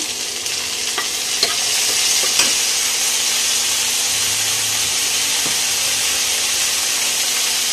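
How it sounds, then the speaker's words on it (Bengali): Onions fry in a pan with a loud, dense, continuous sizzle, broken by occasional light spatula taps and scrapes as they are stirred. "পেঁয়াজ ভেজে নিচ্ছি, দিয়ে দিব টমেটো"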